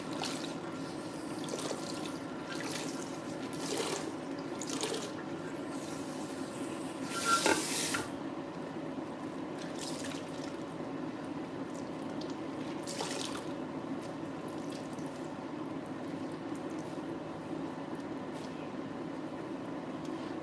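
Cool tap water runs steadily while a wig is rinsed after toning with blue-based shampoo, a constant close splashing hiss with small drips and one brief louder gush partway through.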